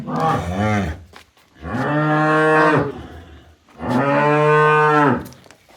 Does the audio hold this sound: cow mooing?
yes